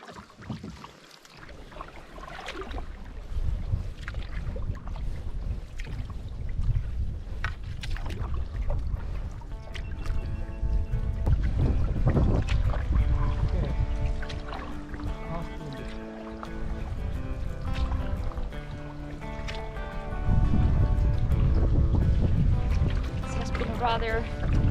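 Canoe paddled across lake Tiilikka in cold, windy weather, soft water sloshing and paddle strokes under a steady rumble of wind, with people talking over it.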